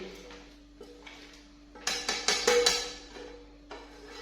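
Roasted dry fruits are scraped from a frying pan onto a plate, giving a quick cluster of metallic clinks and scrapes in the middle of a quiet kitchen with a steady low hum.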